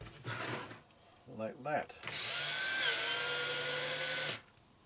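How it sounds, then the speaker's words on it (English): A screwdriver drives a screw into a wooden sewing-thread rack, giving one steady, close whirring run of about two seconds that follows a few brief spoken words. "That's gonna go through there with a screwdriver"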